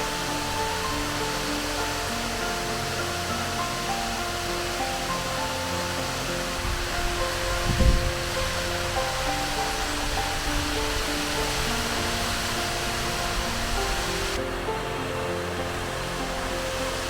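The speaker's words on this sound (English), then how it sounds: "The creek travels down the limestone ledges and drops some 60 feet into the canyon creek below" A creek pours over limestone ledges and drops about 60 feet into a canyon creek below, giving a steady, dense broadband roar that holds constant throughout with one brief low thump near the middle.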